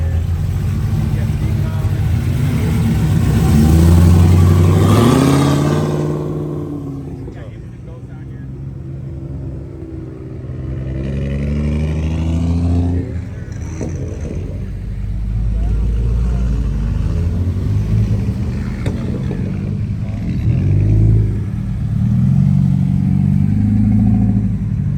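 A BMW M5 drives past at a cars and coffee meet, its engine note swelling loudly then fading, heard alongside ongoing talk from people nearby.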